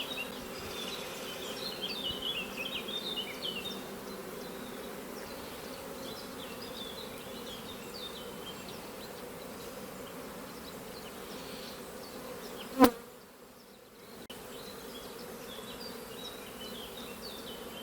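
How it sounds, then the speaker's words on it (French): Honey bees buzz steadily around an open hive during a beekeeping inspection, a continuous close hum with a sharp click midway and a brief quieter gap afterward. "De toute façon, c'est toujours la faute de l'apiculteur, jamais des abeilles."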